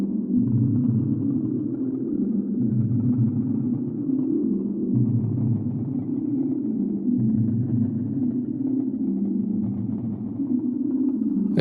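A Strymon NightSky reverb pedal with low harmonics added sustains a deep, murky drone that slowly swells and shifts in pitch without a break, with no voices.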